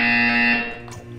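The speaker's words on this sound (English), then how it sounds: "You will hear a buzzer." A loud electronic buzzer from the video game Portal, a steady harmonic tone holding for about half a second before it fades into a fainter tail.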